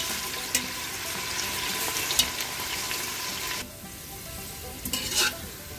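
Onions browning in a pan for Kashmiri pulao, a dense hissing sizzle with scattered stirring clicks that drops off partway through, then resumes more faintly with brief scraping, no talk.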